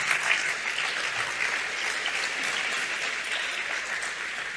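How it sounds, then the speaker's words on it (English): Audience at a summit applauding, a dense steady wash of many hands clapping for several seconds, loud and close without any voices. "Applause to him."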